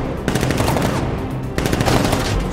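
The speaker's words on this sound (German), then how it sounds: "Schießen die gerade einfach mit normalen Waffen?" Rapid bursts of gunfire from ordinary weapons in the Batman: Arkham Knight video game, dense and continuous, with a short lull near the middle before the shooting resumes just as loud.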